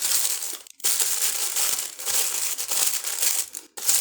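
Tissue paper is folded in half and crumpled by hand, a close, steady crinkling and rustling with a couple of brief pauses, and no talk.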